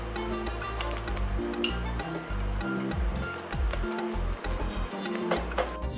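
Bulgur wheat and egg mixed in a bowl with a utensil, close rhythmic clinks and wet squishing over a steady low hum, with voice-like sounds faintly in the background.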